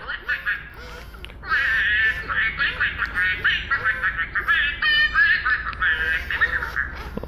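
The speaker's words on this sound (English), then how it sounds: "when the duck is silly and you talk to him, he'll talk back to you" An Aflac robotic duck toy answers back with a quick run of bright, chirpy quacks and giggly electronic sounds. The bursts come close together and sit close to the listener.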